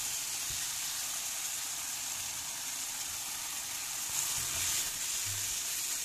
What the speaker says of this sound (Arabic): هضيف البصل والثوم وكل البهارات وهقلبهم مع بعض